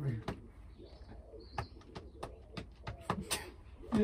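A bird walks across a roof overhead, making a scattered series of light, sharp taps and scrapes at an uneven pace, fairly close and fairly quiet against a low background hum.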